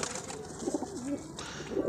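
Soft, low cooing from highflying breeding pigeons repeats over steady background hum, the throaty calls fairly close and gentle.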